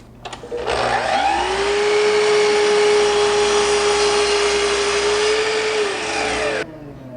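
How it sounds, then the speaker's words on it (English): A power saw cuts a punky, partly rotted edge off a wooden board in a woodworking shop: the motor spins up to a steady loud whine, runs through the cut for about five seconds, then switches off abruptly. "So first thing I'm going to do is I'm going to cut this little bit of a punky edge off"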